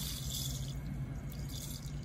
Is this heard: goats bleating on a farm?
no